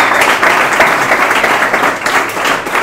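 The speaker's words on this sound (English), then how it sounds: "Applause for him, please." Audience applause for a pitch speaker at an investor pitch event, a dense, steady wash of many hands clapping close and loud for the full stretch, with no speech over it.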